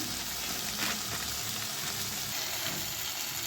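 Potatoes with spices, chopped tomato and salt sautéing in a pan, a steady close sizzle and hiss that carries on evenly, with faint scraping of a stirring utensil and no talk.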